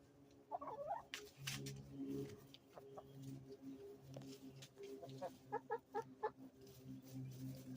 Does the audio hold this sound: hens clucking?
yes